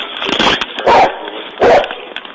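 A police dog barks in sharp, loud bursts nearby, with three or four harsh barks in quick succession against a noisy outdoor background.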